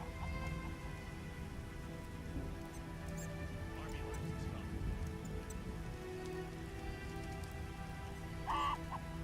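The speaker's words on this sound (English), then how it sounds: "What a downpour." Rain pours down in The Witcher video game as a steady, even hiss of a heavy downpour. It runs unbroken throughout the stretch, with a faint brief squeak near the end.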